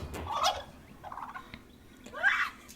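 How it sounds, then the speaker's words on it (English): A turkey gobbling three times in quick rattling bursts, close by and fairly loud, among backyard poultry with no talk over it. "Turkey."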